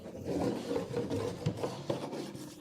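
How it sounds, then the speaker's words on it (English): Wax being rubbed onto the raw wood of a drawer's sliding parts during furniture refinishing, a steady dry rasping and scraping with a few sharper knocks, close and fairly quiet. "It's usually always good to apply wax to the parts that rub against the raw wood."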